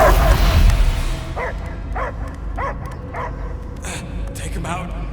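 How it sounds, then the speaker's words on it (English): A dog barks repeatedly in an even rhythm in the video game Marvel's Guardians of the Galaxy, several sharp close barks following a burst of noise at the start. "I hear only barking."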